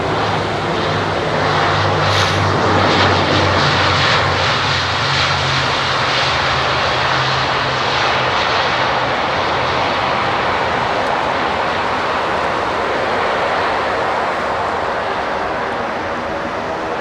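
A fixed-wing aircraft arriving on runway 27R at London Heathrow, its engines a loud, continuous broadband roar that holds steady throughout and eases slightly toward the end, with no talking.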